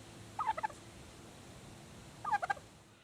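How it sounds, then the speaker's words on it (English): A turkey at a petting zoo gobbles twice, each a quick rattling burst about two seconds apart, close and clear against quiet outdoor background. "actually a turkey that really loved to talk to me"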